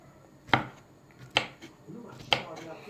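Three crisp knife chops through strawberries strike a cutting board at an uneven pace, close and distinct, with faint background noise between them.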